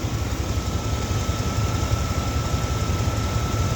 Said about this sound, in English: 350 Vortec.